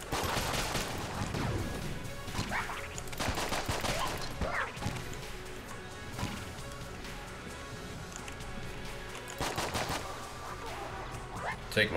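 Rapid bursts of gunfire from the video game Enter the Gungeon, with clustered shots and volleys repeating over a steady background of game music.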